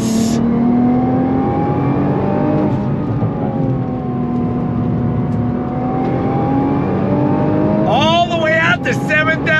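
A sports car engine holds a loud, continuous full-throttle drone as the pitch climbs steadily, followed by a sharp whining sweep near the end, with a person talking over it.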